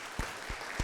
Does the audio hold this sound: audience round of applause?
yes